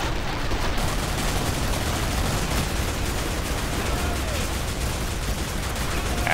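Dense, continuous gunfire from the Killing Floor shooter game with the Guardian's Mod, rapid overlapping shots forming a loud unbroken barrage throughout.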